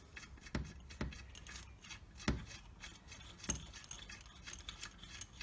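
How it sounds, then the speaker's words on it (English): Small 20mm bolts being fitted into aluminium threads, a few quiet metallic clicks and light clinks spaced irregularly over faint rustling and handling noise, close up with no talk. "So I'm just going to put these bolts in here."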